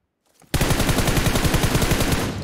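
Rapid automatic gunfire in PUBG Mobile, a loud sustained burst of evenly spaced shots starting abruptly after a brief quiet moment and running for about two seconds.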